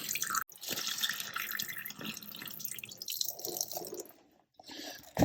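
Dirty, reddish water drips and trickles while a sea-corroded metal-detecting relic is cleaned, a close, steady run of small liquid drips and splashes that pauses briefly near the end.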